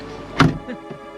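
A car door thumps once nearby as it is opened and shut to free a caught seatbelt, parked roadside near Waterfowl Lake in Banff National Park, followed by a couple of faint clicks.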